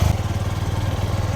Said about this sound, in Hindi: अब मैं बाइक स्टार्ट करता हूँ